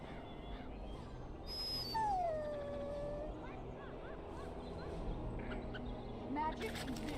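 A dog whimpers and yips with high, rising and falling whines in the video game Dragon Age: Origins, faint and intermittent over a low ambient background with a voice speaking.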